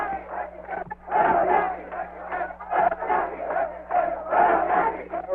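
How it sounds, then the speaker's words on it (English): Large crowd in Santo Domingo chanting anti-American slogans in rhythmic unison, loud and close, with repeated shouted phrases rising and falling over steady background hum. "Beware Yankees, beware Yankees, comes the chant."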